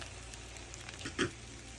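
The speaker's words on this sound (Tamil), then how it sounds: "அஞ்சு நிமிஷமாக நாங்கள் இதை வறுத்து எடுத்துட்டோம்." Drumstick poriyal frying in a pan on the stove, a faint, steady sizzle with one brief louder crackle near the middle.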